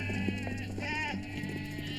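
Sheep bleat in wavering cries over a steady low hum, with a prominent bleat near the middle and fainter calls around it.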